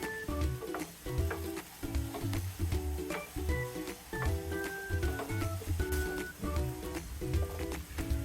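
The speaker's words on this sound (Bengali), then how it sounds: "ফুলকপি আলু গাজর আমি চার পাঁচ মিনিটের মতো ভেজে নেবো" Cauliflower, potato and carrot fry in a pan for vegetable pulao, giving a steady crackling sizzle with occasional stirring, under a background of music.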